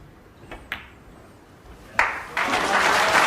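Snooker crowd at the 2012 World Championship first-round match between Ronnie O'Sullivan and Peter Ebdon breaks into applause, starting with a few scattered claps and thuds, then swelling into a fuller round of clapping over the last second and a half.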